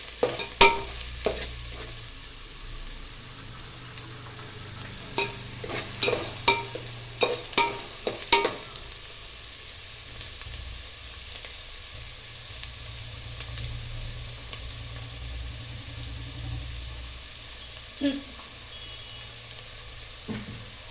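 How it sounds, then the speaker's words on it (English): Onions fry in a pan under a soft, continuous sizzle, broken by bursts of sharp spatula scrapes and taps against the pan that cluster in the first half and then thin out to a lone clink. "And we will mix the onion properly till it gets the brown color flavor."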